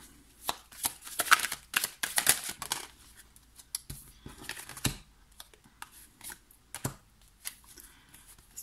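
Tarot cards being shuffled and drawn by hand, heard as bursts of close riffling and flicking followed by scattered sharp card snaps and taps, with no talk.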